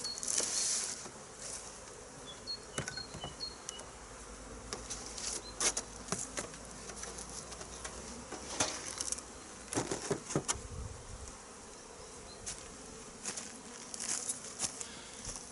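Honeybees buzz inside an opened beehive on a chilly February day, a soft continuous hum with individual bees droning close by now and then, and nobody speaking.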